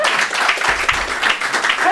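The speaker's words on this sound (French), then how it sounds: "on pourrait quand même les applaudir" Brief, steady applause from a church congregation for a messianic celebration group, a close, even clatter of many hands under a faint voice.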